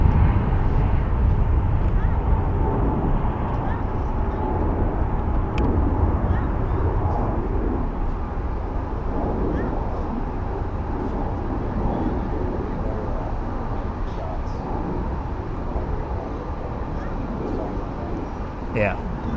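Airliners lined up for takeoff at Charlotte Douglas Airport, with a broad, steady jet roar filling the air at a distance while people talk over it.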